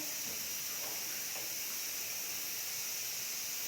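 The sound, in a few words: chickpeas sizzling after tempering in an iron kadhai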